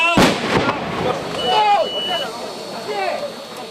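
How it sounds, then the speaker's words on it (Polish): A sharp, loud cannon boom signals a triathlon race start near the beginning, followed by crowd noise and voices calling out over the echoing aftermath. "Armata daje sygnał do pierwszego startu."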